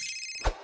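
A short electronic telephone ring tone sounds while a caller is being dialed in, then ends in a single soft click. The sound is brief and moderately loud, with no speech.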